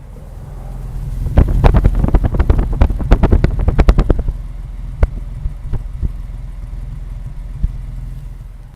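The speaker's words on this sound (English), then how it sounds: "we'll get a listen to the single exhaust and its note" A 1952 Mercedes-Benz 300 Cabriolet D heard from its single rear exhaust: a loud burst of sharp revs for a few seconds, then settling into a steady idle with occasional pops and blips.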